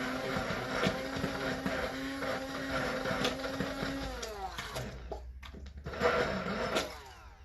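A stick blender whirs through olive oil soap batter. Its steady motor drone runs for about four seconds and then cuts off, followed by quieter handling noises and a brief later burst.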